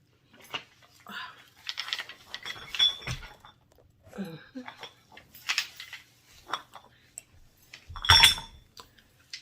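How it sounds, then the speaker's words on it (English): Light metallic clinks and rattles, like small metal pieces knocking together, come in scattered bursts with a louder jangle near the end. "So this link, it is metal. You can hear it."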